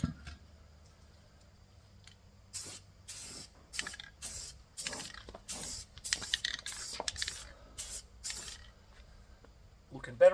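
Spray paint hisses in a series of short bursts as a light first coat goes onto the rims of a 1975 Holden, each spurt close and crisp with brief pauses between.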